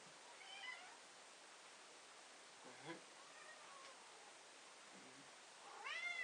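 A cat meows several times, short soft calls spaced a couple of seconds apart, with steady low hiss between them and no talking.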